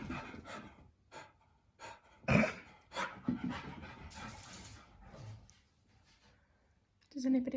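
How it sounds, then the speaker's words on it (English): A pet dog pants in quick bursts of breathy huffs close by, with pauses between, while a person talks intermittently at home during lockdown. "Does anybody else's dog do this?"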